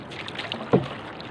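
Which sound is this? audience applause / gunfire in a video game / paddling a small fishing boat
paddling a small fishing boat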